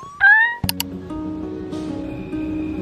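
A cat meows once in a short rising call on a Paris street, followed by thuds, a clatter and a steady mechanical hum that carries on underneath.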